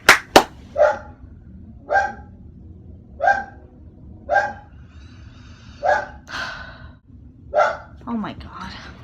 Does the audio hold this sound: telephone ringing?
no